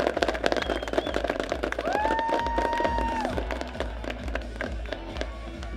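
A crowd applauds and cheers steadily in the stands at a Quebec college football game, a continuous wash of clapping with a tone sounding briefly in the middle.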